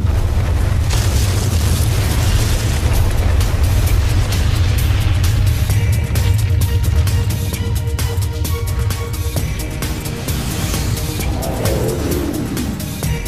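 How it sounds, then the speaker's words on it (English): A deep, continuous rumble from the Kobe earthquake, heard at a port-side fire station, rolls on loud and low throughout, with scattered clattering and crackling bursts layered over it as things shake. "the earth begins to shake"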